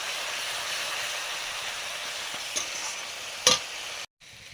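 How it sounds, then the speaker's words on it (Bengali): Water poured into a hot pan with chili powder sizzles in a loud, continuous close hiss, with a couple of brief sharper spits before it cuts off abruptly. "ঝাল লঙ্কা গুঁড়ো, একটু জল দিলাম।"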